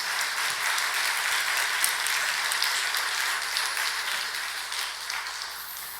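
A church congregation claps together during a Friday night service, a steady wash of applause at moderate distance that tapers slightly toward the end.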